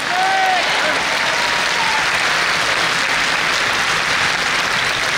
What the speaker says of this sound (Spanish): Despiértate con un aplauso al Señor.